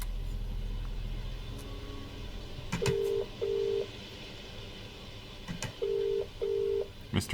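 Touch-tone keypad dialing in the game Contradiction: two paired bursts of steady electronic tones, each pair repeated twice across the stretch, over a low hum with a few sharp clicks and no talking.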